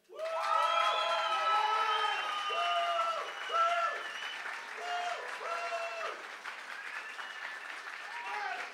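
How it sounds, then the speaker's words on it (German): Poetry slam audience in Wuppertal bursting into loud, sustained clapping mixed with shrill whistles, cheers and foot stomping, a dense crowd roar that stays strong throughout with voices shouting within it. "dann klatscht, pfeift, trampelt, explodiert bitte jetzt"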